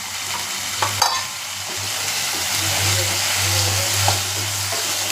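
Tomatoes and green chillies sauté in a hot pan with a continuous close sizzle, broken by occasional scrapes and clacks of stirring over a low steady hum.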